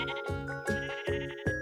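Sheep bleating in the video game Miniland Adventure, a quick series of four or five nasal, wavering bleats in close succession, clear and prominent with no talk.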